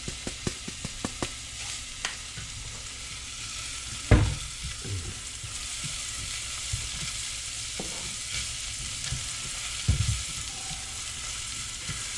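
Ginger and onion caramelising in a pan for miso soup give off a continuous close sizzle, with occasional spoon scrapes and a couple of louder knocks against the pan.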